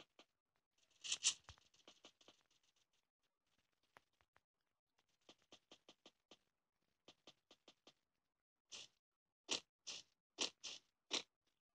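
Footsteps in Free Fire, crisp quick steps arriving in short clusters, faint at first and then louder and closer toward the end with clear gaps between the groups.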